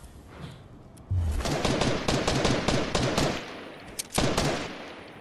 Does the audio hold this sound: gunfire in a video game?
yes